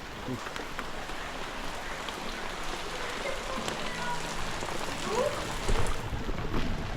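Heavy rain pours down in a dense, continuous hiss at Koduvally, Kerala, during flooding of the Poonoor river, with distant rumbling and a faint voice in the background.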